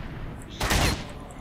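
A short burst of gunfire in the video game Stalker: Shadow of Chernobyl, set in Pripyat, erupts mid-clip as a loud, dense cluster of shots lasting about a third of a second over a quiet background.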